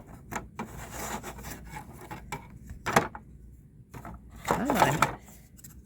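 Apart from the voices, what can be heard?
sanding wooden dollhouse window frame pieces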